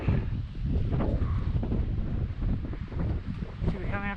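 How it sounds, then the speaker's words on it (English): Cold wind blows hard near Loch Leven, a steady rushing buffet across the microphone that stays loud for the whole stretch. "That wind is cold."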